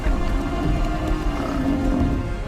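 Large wild animals clash at a river's headwaters in Yellowstone, giving off deep, rumbling roars and grunts that continue steadily, loud and close, with no talking over them.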